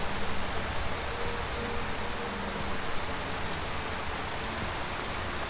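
Steady rain falling in Skyrim, a dense, even hiss of downpour that stays constant and fairly loud from start to end, with no voices.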